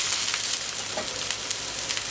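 Pork filet mignon sears on a hard-chrome plancha, giving a steady, dense sizzle that holds evenly throughout with soft crackling pops and no voices.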